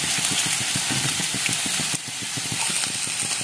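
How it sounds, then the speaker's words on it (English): Paneer pieces frying in hot oil, a steady close sizzle and hiss with rapid bubbling crackles that drop briefly then carry on. "So this way, I'll fry all my pieces of paneer."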